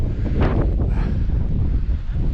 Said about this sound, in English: Wind slowly going away, then picking up again.